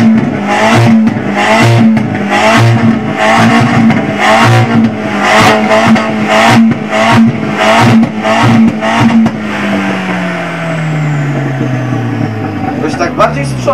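An Audi's engine is revved hard during a sound level measurement at an Audi owners' meet in Łódź. Loud, close, rhythmic rev bursts repeat, then a long falling note fades, with people talking over it.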